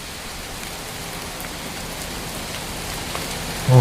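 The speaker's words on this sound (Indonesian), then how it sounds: "Suaranya suara hujan." Steady, heavy rain pours onto roof tiles at night, a dense even hiss that holds constant throughout, close and fairly loud with no voices.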